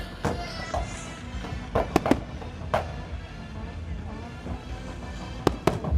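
Fireworks crack and bang at irregular intervals, some sharp and close together, over a low hum of crowd noise and voices at a car meet and festival in Thailand.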